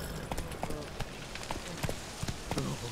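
Horse hooves gallop in The Witcher 3 at a steady, rhythmic clip-clop, moderately loud, with faint background ambience and occasional voice sounds mixed in.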